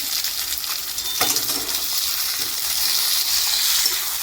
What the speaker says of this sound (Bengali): এবার এটাকে পেঁয়াজের সঙ্গে আমি কিছুক্ষণ ভাজবো